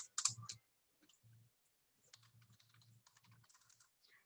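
Quiet, close typing on a computer keyboard while writing a database join query: a quick cluster of sharp key clicks, then short bursts of soft keystrokes with brief pauses.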